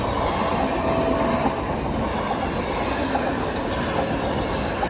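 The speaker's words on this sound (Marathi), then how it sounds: "एक ट्रेन गेली दुसऱ्या ट्रेनला टाईम लागला" A train rolls past close by at a railway crossing, a loud steady rumble with clattering wheels and faint squeals, continuing without pause the whole time.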